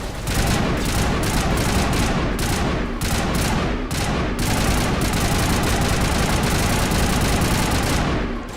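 Sustained suppressing gunfire in the video game Mass Effect, a dense, continuous rattle of rapid shots with brief gaps, loud and close, and no voices over it.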